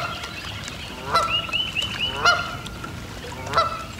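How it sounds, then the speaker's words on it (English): Several geese on a lake honk loudly in bursts, with calls rising about a second apart over a steady outdoor background hiss. "Geese are raising sand, ain't they?"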